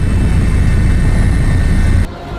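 A helicopter passes over a landslide disaster site in Aceh, a loud continuous rotor and engine roar that cuts off abruptly near the end.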